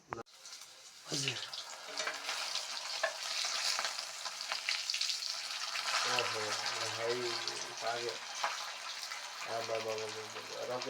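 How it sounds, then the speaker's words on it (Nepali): Fish bought fresh from the river frying steadily in a pan, a dense continuous sizzle running throughout with occasional stirring, while people talk over it at several points. "माछा फ्राई भइरहेको छ"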